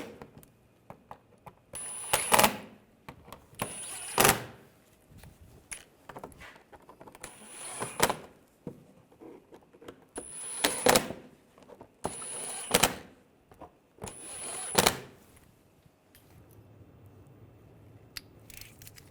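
Bolts on the starter of a 2005-2010 Volkswagen Jetta 2.5L five-cylinder are tightened in six short, close bursts of ratcheting clicks, separated by quiet pauses.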